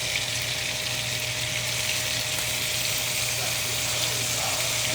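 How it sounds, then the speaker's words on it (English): Oxtails sear in a hot pan, giving a constant, even hiss and sizzle with a faint steady hum beneath and no voices. "Of course, y'all saw the oxtails. They are searing."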